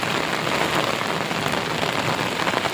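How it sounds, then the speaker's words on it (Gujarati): Heavy rain pours steadily during a thunderstorm, a dense continuous hiss of water falling on a rooftop terrace with no pauses or talk. "એમ જ પાણી પડે છે અત્યારે હાલમાં."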